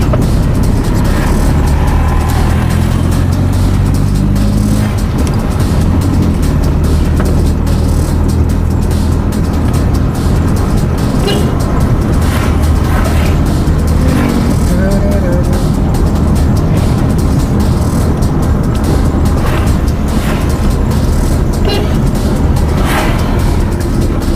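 Vehicle traffic on a morning street in Palu, Central Sulawesi, a continuous loud rumble of passing cars and engines with a few passes rising and fading, with occasional voices beneath.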